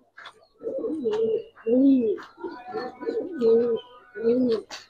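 Giribaz pigeons, a silver lal patti pair of an old breed, coo close by in a run of deep, throaty rolling calls. The calls come in repeated bursts with short pauses between them.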